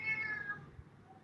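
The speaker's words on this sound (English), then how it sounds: "Sorry about the cat." A domestic cat meows once, a drawn-out, slightly falling cry heard fairly close and clear in an indoor setting.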